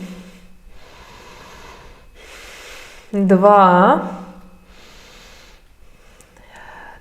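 Steady, audible breaths come in and out at a regular pace during a yoga plank pose, about one breath per second, while a voice counts aloud.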